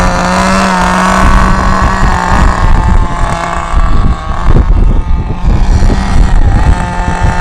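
A Thunder Tiger SSR 4WD nitro RC car engine warming up runs loudly and close by, buzzing steadily with uneven sputters and brief revs, wind rushing over the microphone.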